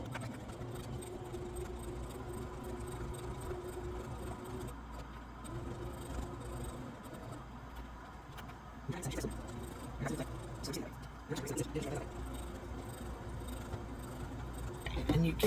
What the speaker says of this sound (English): I'm going to sew all the way along this edge, down here, and back up.